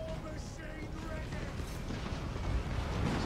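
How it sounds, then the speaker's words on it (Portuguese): Battle explosions in Total War: Warhammer 2, with dwarf troops under fire: a thick, continuous rumble of blasts and distant booms rolling together without pause, with a voice talking over it. "o senhor deles aqui já está tomando explosão de todo lado"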